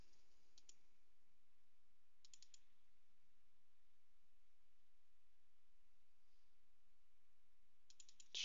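Faint computer mouse clicks while working in a game modding toolkit, a few small quick clusters of two or three clicks spread across quiet near-silence, close and crisp.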